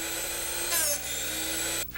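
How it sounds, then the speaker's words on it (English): Drill Doctor DD Classic 250 sharpening a drill bit: a close, steady whirring grind with a brief higher scraping burst in the middle and a short dip near the end. "Listen carefully to the sound your drill doctor makes."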